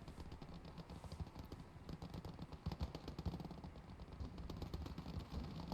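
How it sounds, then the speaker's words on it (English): Sniper shots and rapid machine gun fire in the World War II strategy game Gates of Hell: Ostfront ring out in bursts and scattered cracks, fairly faint and continuous across the battle. "Snipers taking pot shots."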